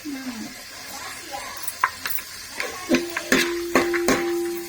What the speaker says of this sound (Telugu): బాదం పప్పు ఫస్ట్ ఫస్ట్గా ఫ్రై చేసుకోవాలి